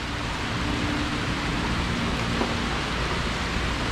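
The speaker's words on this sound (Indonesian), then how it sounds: "Ini kehujanan di wilayah sini." Steady rain falling around a centuries-old traditional Banjar house in Teluk Selong Ulu, Martapura, a dense continuous wash of rain that stays even throughout, with no voices.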